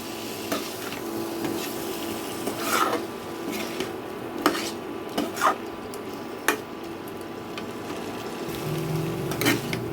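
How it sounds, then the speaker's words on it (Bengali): Potatoes and rice frying with spices in a pan, heard as a steady sizzle under rasping spatula scrapes and occasional sharper knocks against the pan, close and continuous. "এখন আমি এই মশলাটার সাথে এই আলু আর চালটাকে আমি এক থেকে দু মিনিট একটু কষিয়ে নেবো"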